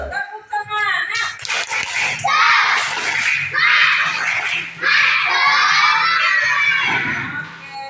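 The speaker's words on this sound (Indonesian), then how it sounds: "Tepuk semangat." Schoolchildren in a classroom perform a spirit clap together, loud group clapping in a brief rhythmic pattern mixed with their shouts and chanting voices.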